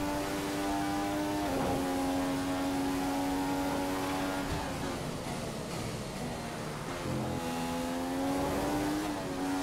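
A Formula 1 car engine in the F1 2015 racing game at the Russian Grand Prix screams at high revs, loud and continuous, its pitch dipping and climbing with gear changes and throttle.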